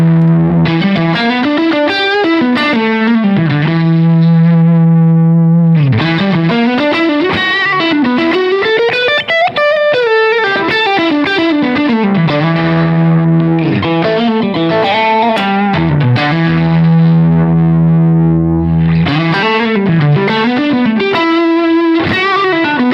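Electric guitar played through a J Rockett Melody overdrive pedal, a loud, continuous driven tone with sustained chords and melodic lines ringing throughout, no talking.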